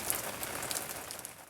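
Rain falling outside, a steady, dense patter of drops with a soft hiss throughout.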